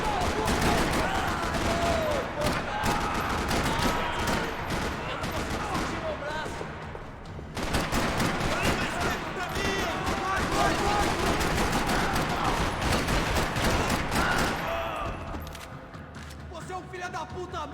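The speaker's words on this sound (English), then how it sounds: "Another parking lot rattling with gunfire." Dense bursts of rapid gunfire in a parking lot in the video game Max Payne 3 rattle almost continuously, with machine-gun volleys, a brief pause midway, and voices shouting amid the shooting.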